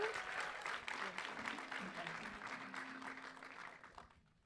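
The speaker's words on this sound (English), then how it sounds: "Let's get a round of applause" A crowd at a GRAMMY U summit at Belmont gives thick, sustained applause, fairly distant and soft, which gradually fades and drops away at the end.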